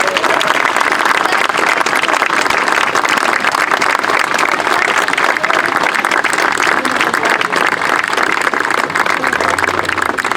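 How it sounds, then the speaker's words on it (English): An outdoor crowd at a Fort Meigs historical reenactment claps in sustained applause, a steady dense patter throughout, with a faint engine hum entering near the end. "please, a round of applause for for these fine folks who are coming out"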